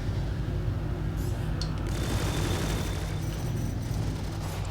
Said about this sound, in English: To avoid the missiles that he's firing at me.